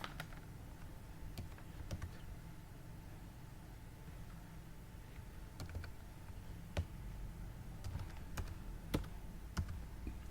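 Typing on a computer keyboard, entering a tax number, with sparse, crisp key clicks scattered irregularly over a low steady room hum, close and fairly quiet, with no talking.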